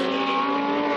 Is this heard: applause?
no